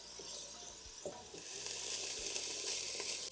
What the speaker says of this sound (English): we're going to saute these until the onions are soft